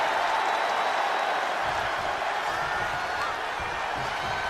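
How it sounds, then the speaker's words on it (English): A wrestling arena crowd in the video game WWE 2K25 roars and cheers steadily, a dense, loud wash of noise with no clear breaks throughout. "Peter Maivia rallying this crowd behind him."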